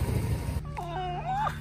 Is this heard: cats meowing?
yes